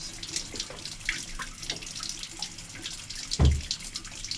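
Tap water runs steadily into a sink while a paintbrush is rinsed, a soft continuous splashing with a brief louder gush near the end, close and without talk.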